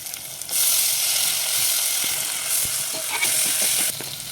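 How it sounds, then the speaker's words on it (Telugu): Curry leaves drop into hot oil and set off a loud, close sizzle that jumps up suddenly and then crackles steadily, with a few sharp clicks of stirring, and no voices. "కరివేపాకు వేసుకుంటున్నానండి"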